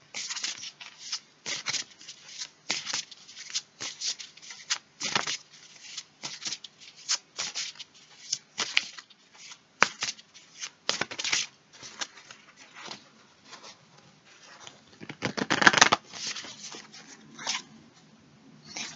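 Tarot cards being shuffled by hand, a steady run of soft riffling slaps and flutters with irregular rhythm, close and fairly quiet, with one louder burst near the end and no talking.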